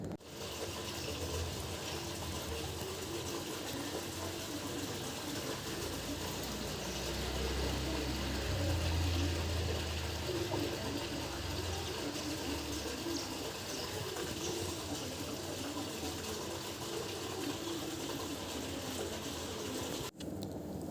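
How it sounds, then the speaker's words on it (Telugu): Rainwater rushes and gurgles steadily as it drains away through a hole, a constant broad wash of flowing water with a faint low rumble beneath. "అడ్డపడింది అంతా వెళ్తున్న వాటర్ సౌండ్ వినండి"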